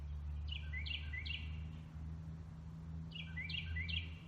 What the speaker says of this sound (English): There's the bird.